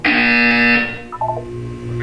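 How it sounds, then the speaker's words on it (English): A synthetic electronic buzzer tone from the Portal 2 wellness exercise, a loud sustained harmonic drone lasting under a second, followed by a few brief chirping tones over a low hum. "You will hear a buzzer. When you hear the buzzer, look up at the ceiling."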